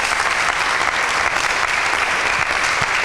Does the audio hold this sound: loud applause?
yes